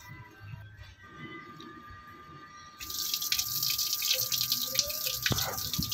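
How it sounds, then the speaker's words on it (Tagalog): Water runs from a tap into a cooking pot, starting as a soft trickle and then rising to a steady, louder splashing flow that fills the pot. "Una natin gagawin guys is lagyan natin ng tubig yung kaldero"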